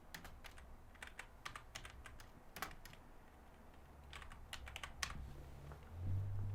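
Someone types an email address on a computer keyboard, with quick, irregular clusters of crisp key clicks up close, short pauses between bursts, and a low hum underneath.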